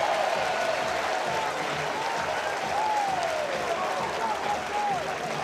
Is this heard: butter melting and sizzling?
no